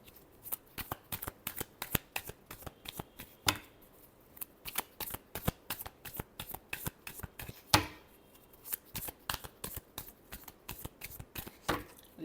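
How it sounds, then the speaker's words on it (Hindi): Tarot cards being shuffled by hand: soft, quick riffling bursts and flicks repeating irregularly for several seconds, close and fairly quiet, with no talking. "last shuffle"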